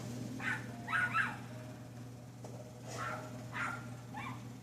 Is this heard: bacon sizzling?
no